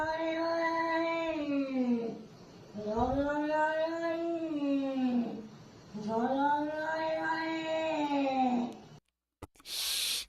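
A cat yowls in three long, drawn-out wails that rise and fall, each lasting a couple of seconds, loud and close.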